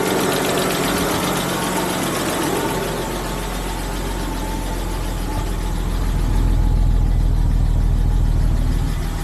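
BMW E60 engine idling, a steady, close mechanical drone with faint ticking that grows slightly heavier and deeper toward the end, with no talking over it.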